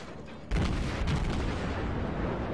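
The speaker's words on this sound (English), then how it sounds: "Got a couple shots over the island at that Wyoming." German cruiser main guns firing in the video game World of Warships, a sudden loud salvo boom followed by a long, heavy rolling rumble that sustains to the end.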